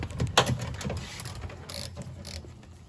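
A Torx T30 driver backs screws out of a Land Rover door, giving a run of ratcheting, clicking mechanical turns, fairly close, with small metallic scrapes along the way.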